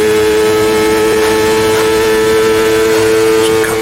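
Steady race-car engine drone from Automobilista 2 at constant revs, loud and continuous with strong harmonic tones, faint shifts in pitch as the car holds speed.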